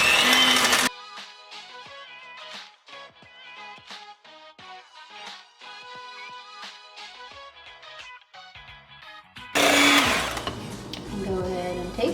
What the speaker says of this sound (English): Now I'm actually just gonna mix this first with my mixer